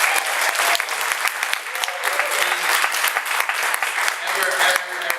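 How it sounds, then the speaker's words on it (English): At a poetry performance event, an audience breaks into loud, dense applause that runs steadily for about five seconds, with a voice speaking faintly beneath the clapping. "And please give him a round of applause."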